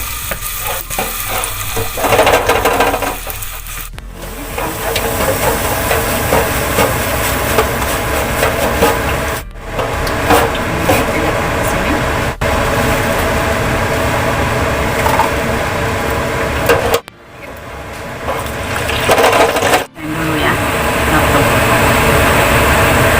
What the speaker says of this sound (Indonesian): Bukan yang kedua, ini lagi digoreng sampai habis ya.